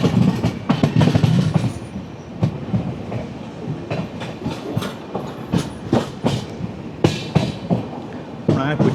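The Netravati Express rolls into Kuttippuram station in Kerala, with loud, close clickety-clack of wheels over rail joints in an uneven rhythm and rattling carriages, while voices talk in the background.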